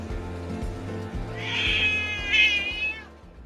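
An orange street cat gives a long, drawn-out meow that rises and wavers, close and fairly loud over a low steady engine hum.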